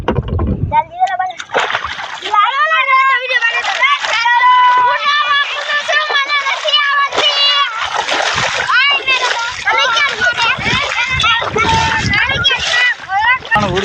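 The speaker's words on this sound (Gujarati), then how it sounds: "હોડી હલાવે છે." A small boat being rowed through water by a child among fishermen, with repeated splashes and paddle strokes close by, under constant excited children's voices and talk.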